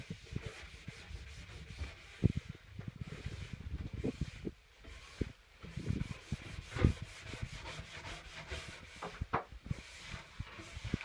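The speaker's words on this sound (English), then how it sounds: "you cannot go back and forth on a metal brush" A metal brush scrubs wax from a ski base in repeated strokes, giving a rhythmic, close, bristly scratching that rises and falls with each pass and continues steadily throughout.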